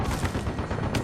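A weapon fires in Spec Ops: The Line, a burst of loud, close gunfire with rapid rattling reports packed tightly together over about a second, heard without any talking.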